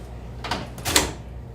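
A drawer in a travel equipment case is pulled open with a couple of short sliding scrapes and a clack, fairly close, over quiet room noise.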